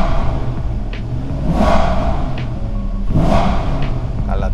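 A car engine, still cold, is revved twice to about 3,000 rpm. Each rev swells to a loud roar and falls back to a low idle rumble.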